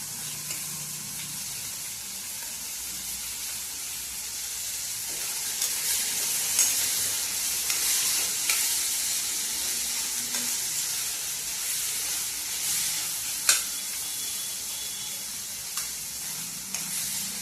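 Roasted corn sizzles and fries steadily in a pan while being stirred, a continuous close hiss with scattered scraping clicks from the stirring and no talking.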